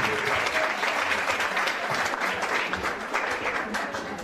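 A church congregation applauds for a fellow singer at a choir conference, dense and steady clapping filling the room for about four seconds with no break.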